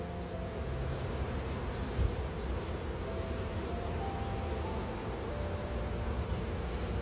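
A dense, steady hum of many honeybees buzzing close by, continuous and unbroken for the whole stretch with no voices.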